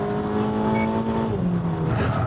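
A self-driving car traveling around 80 miles an hour on a track, a loud continuous engine drone with rising and falling harmonic whine and heavy road and wind rumble, close and unbroken.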